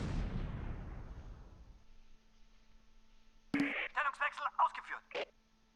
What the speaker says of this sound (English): Let's drop some mortars right there.